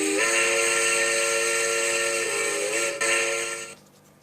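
A Baldwin 210OH locomotive horn sounds in the Trainz railway game as one long, loud, steady multi-tone blast lasting several seconds, then cuts off abruptly.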